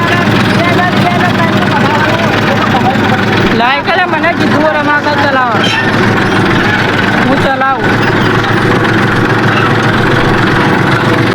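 A tractor engine idles and runs loudly and steadily on a farm, its low continuous rumble close and constant, with people talking over it.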